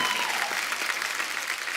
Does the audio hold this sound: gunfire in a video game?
no